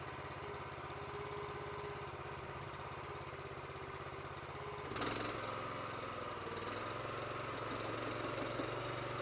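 An Anderson IFX-660 bale wrapper's engine runs at a steady idle, then revs up audibly about halfway through and holds a higher, louder drone, with no talking.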